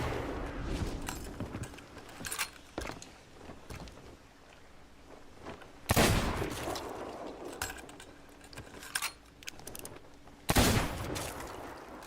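Gunfire from a Sea of Thieves battle against a captain, with repeated shots and sharp, loud bursts around six and ten and a half seconds over continuous game noise and water ambience.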